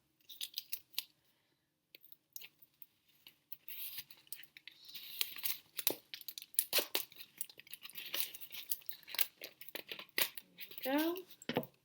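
Strips of tape are torn and pressed onto a cardboard rain stick in short, close rips and crinkles, separated by quiet gaps and light handling noises.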